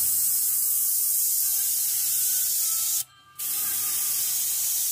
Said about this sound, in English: I have to make sure I don't spray this real hard